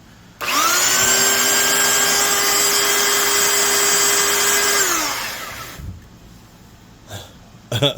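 A Porter-Cable 2.5x14 worm drive compact palm belt sander runs loud and steady with a high whine for about four seconds, then winds down and stops, followed by a few faint handling knocks.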